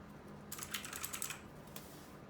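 Typing on a Lingyi K52 mechanical keyboard: a quick burst of clacky keystrokes for about a second, then a couple of isolated presses, fairly close and alone in a quiet room.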